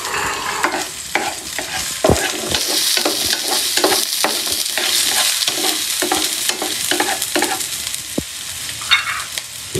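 Garlic sizzling as it fries in a pan for a dorado fish steak dish, a loud continuous crackle close by, punctuated by repeated sharp utensil scrapes and taps from stirring.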